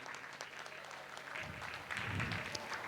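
Audience at a folk cultural festival claps steadily while ceremonial lamps are lit on stage, a soft, distant wash of applause that swells slightly toward the end.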